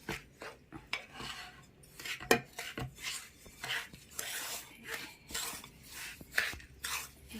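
Rava laddu mixture of semolina and milk worked by hand in a metal bowl, repeated gritty rubbing and scraping strokes in an uneven rhythm, close and fairly quiet, with occasional light clinks of the bowl.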